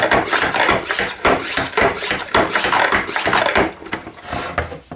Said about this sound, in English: So we'll pump this up once again.